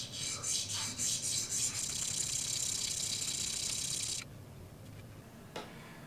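A VPA Omega single-bevel broadhead is rubbed back and forth on a sharpening stone, giving close, rhythmic rasping strokes that run steadily for about four seconds, then fade to quiet with one faint scrape.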